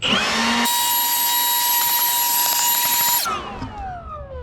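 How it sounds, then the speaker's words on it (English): A Milwaukee cordless blower blowing dust out of a filter, a loud high-pitched whining motor that starts abruptly, runs steadily for under three seconds, then cuts off and spins down with a falling whine. "I take the Milwaukee blower. It fits right in there"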